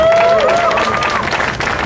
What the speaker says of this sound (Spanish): Yo les doy este aplauso a todos ustedes.